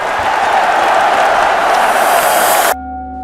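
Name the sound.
roaring crowd in headphone commercial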